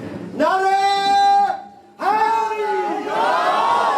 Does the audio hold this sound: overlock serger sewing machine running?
no